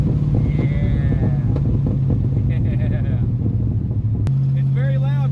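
A Buick Wildcat with its muffler cut off rumbles loudly and steadily from close by, its deep exhaust drone dropping in pitch partway through. Tires squeal and voices talk faintly underneath.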